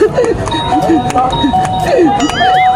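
A doorbell chimes several times in quick succession while voices talk and shout over it, followed by a warbling electronic tone.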